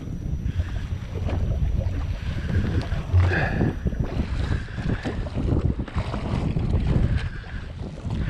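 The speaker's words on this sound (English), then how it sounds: "we've got a northwesterly wind, so it's sort of a little bit wind against tide, that's why it's a little bit choppy" Northwesterly wind gusts across choppy tidal water from a jetski out fishing, a steady broadband rush with low buffeting wind noise on the microphone and faint water slapping throughout.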